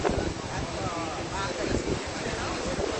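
Ocean water surging inland during Hurricane Dorian in the Bahamas, a steady, loud broadband rush of wind-driven surf and flowing water with heavy wind buffeting the microphone, while a voice talks over it.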